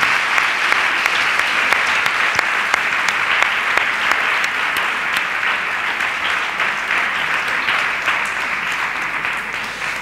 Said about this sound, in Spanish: Por favor, un aplauso para nuestro invitado